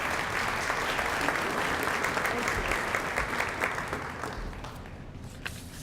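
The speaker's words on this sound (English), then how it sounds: "So Jazzy, you can give them a round of applause" An audience at a school-district steering committee meeting bursts into loud, close applause that holds steady for several seconds before thinning and tapering off toward the end.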